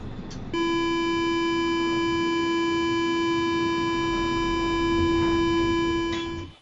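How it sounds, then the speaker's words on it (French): A steady electronic tone with bright overtones from an Alstom Urbalis 300 automatic train control system aboard a metro train switches on abruptly and holds at an even pitch for about six seconds before cutting off. "c'est le système automatique Urbalis 300 d'Alstom"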